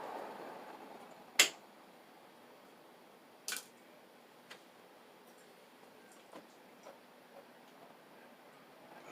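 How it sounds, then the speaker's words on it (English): Wire cutters snip the stripped ends of electrical wires for a two-switch device: one sharp, close click, then a second softer one, and a few faint ticks against a quiet room. "I'll just clip a little bit off of them."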